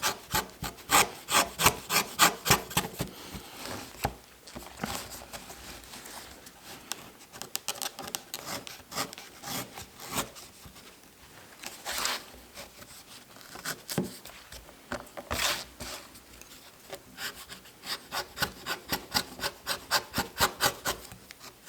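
A blade shaves thick, hard leather to taper it for a knife sheath, giving rapid rhythmic rasping strokes up close. The strokes come in bursts with brief pauses between them.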